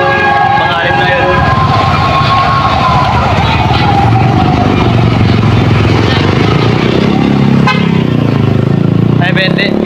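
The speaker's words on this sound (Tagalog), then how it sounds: "Marami nang duman na bumbero eh." Fire truck sirens wail and sweep as they pass along a busy street, loud and close, mixed with engine noise and horn toots while people talk nearby.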